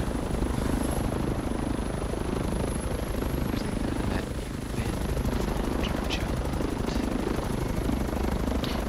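A helicopter in the video game Warzone drones continuously with a loud, steady rotor thrum, with faint sharp clicks scattered through it and no talking.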